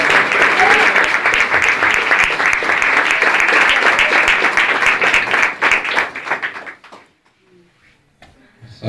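A church congregation claps loudly and steadily for several seconds, then the applause thins out into a few scattered claps and fades to near silence.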